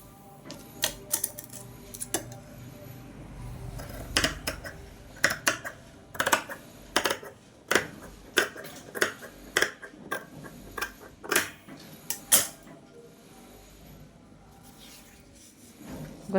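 Sewing machine stitching cloth for a school uniform, a series of sharp, rapid clattering bursts of needle strokes with short pauses between runs, close and fairly loud, with no talking.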